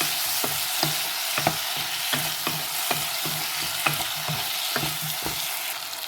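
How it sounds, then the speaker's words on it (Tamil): Fenugreek seeds sizzle in hot oil in a pan under a constant hiss, while a spoon stirs them with a regular series of sharp taps and scrapes against the metal, close and fairly loud. "இப்போ இதுக்காக வெந்தயம் போடுறேன் வெந்தயம் போட்டு கிளறி விட்டுட்டு"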